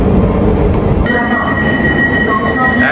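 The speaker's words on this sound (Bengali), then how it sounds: "চালকবিহীন মেট্রো, কোনো ড্রাইভার নাই।" A driverless metro train in Milan runs loudly nearby with a deep rumble, then a sustained high wheel squeal and tonal whine rises partway through.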